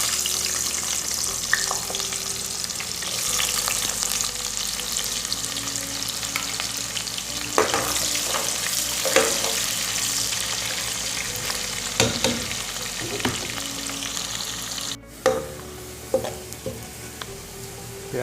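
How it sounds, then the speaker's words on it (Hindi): Chopped onions fry in hot oil for green chicken, sizzling steadily and loudly throughout, with occasional stirring scrapes and clicks. "ऑयल शामिल करने के बाद अब हम इसमें शामिल करेंगे प्याज।"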